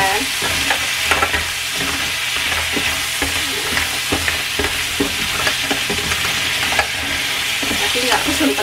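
Clams fry with shallots and garlic in a pan, a loud, continuous close-up sizzle broken by repeated scraping stirs of the utensil.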